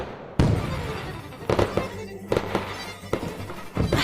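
A fireworks display goes off all at once, with a rapid series of loud, sharp bangs and pops in irregular clusters, close and crackling over a continuous rumbling wash.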